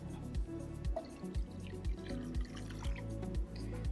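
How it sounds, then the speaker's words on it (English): Distilled white vinegar pours into heated milk in a pot while making homemade mozzarella, a steady liquid trickle with regular drip-like plops roughly every half second, close and fairly quiet, with no talking. "So now we're going to add 14 tablespoons of distilled white vinegar."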